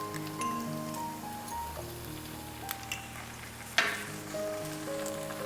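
Red chili powder, turmeric, garam masala and tomato sauce are stirred into shallots in a hot pan for squid masala. The pan sizzles steadily with a few scraping clinks, and soft music plays underneath.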